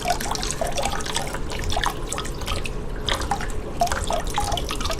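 Water from a siphon hose in a Neocaridina shrimp tank top-off with RO/DI water drips and trickles steadily, with close, repeated small plinks over a running-water wash.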